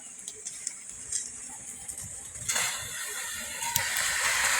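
Soybean dal with ginger, cumin, coriander and pepper paste is stirred in a low-oil cooking pan, a steady scraping and hiss that grows louder and fuller halfway through.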